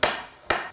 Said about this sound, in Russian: Морковку я буду резать слайсами. Тонкими-тонкими слайсами.